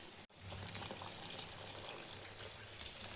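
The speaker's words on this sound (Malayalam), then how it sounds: "1/2 കപ്പ് വെള്ളം ഒഴിച്ചു കൊടുത്ത് തിളപ്പിക്കുക" Half a cup of water is poured into a red snapper fish curry spiced with tamarind, a soft, continuous trickling pour heard close by with no speech.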